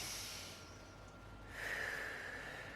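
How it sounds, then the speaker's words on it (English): Deep yoga breaths drawn in slowly, a soft airy inhale that swells and brightens midway, close and quiet with no talking over it. "So just take 2 more deep inhale breaths here."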